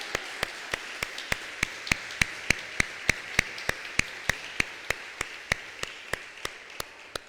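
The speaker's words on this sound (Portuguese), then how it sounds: "Vamos, quer dar palma? Vamos dar palma." A church congregation claps in a steady, evenly spaced rhythm, each sharp clap distinct and fairly close. The beat swells slightly in the middle and then eases off, with no talking over it.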